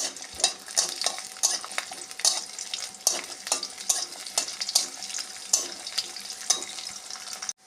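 Garlic fries in a little hot oil in a heated wok, giving a continuous sizzle with repeated scrapes and clinks from a stirring utensil, close and fairly quiet.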